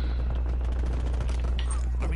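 Rapid gunfire bursts crackle through a Call of Duty Black Ops Cold War match, a dense steady stream of shots over a low constant rumble, with a voice talking now and then.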